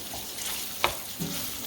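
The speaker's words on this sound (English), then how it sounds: "The meat is still cooking." Meat sizzles and crackles steadily in a greasy pan, a close continuous hiss broken by a few sharp pops, with no talking.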